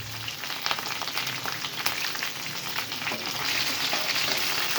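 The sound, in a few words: sautéing green chillies, ginger and curry leaves in a pan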